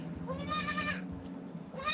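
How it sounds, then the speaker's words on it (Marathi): Goats bleat in a quick series on a goat farm offered for sale, the harmonic calls rising clearly above steady farmyard background noise. "सध्या पन्नास शेळ्या आहे भाऊ विक्रीसाठी"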